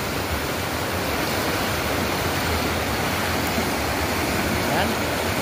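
The clear river water of the Bagsit River at Sitio Dampay in Palauig, Zambales rushes in a steady, dense roar that fills the whole stretch at an even loudness, with no break and no talk over it.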